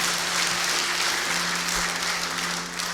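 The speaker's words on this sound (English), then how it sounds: "Why don't we give them a clap?" An audience applauds shy children who have just sung the first verse of Away in the Manger, producing a steady, dense wash of clapping with a low hum underneath, even in loudness throughout.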